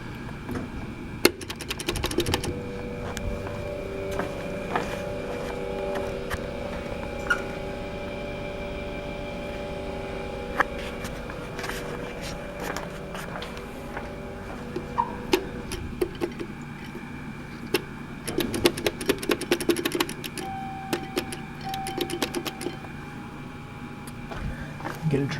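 A Westinghouse hydraulic elevator machine, modified by Schindler, runs in an administration building. It gives a steady mechanical hum and drone with tonal whine, overlaid by irregular clicks and rattles.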